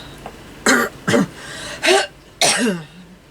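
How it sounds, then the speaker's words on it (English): Four harsh coughs in a row, close and fairly loud, with short pauses between them. "Please excuse my cough."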